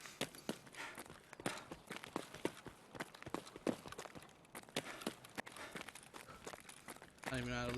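Running footsteps in Escape from Tarkov come as a quick, uneven run of soft thuds over a quiet, hissy game backdrop, fairly faint and somewhat distant, with a louder noise swelling in at the very end.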